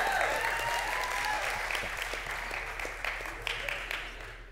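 A live audience applauds at a church event, a dense wash of many clapping hands that holds steady and then slowly thins out, with faint voices in the crowd.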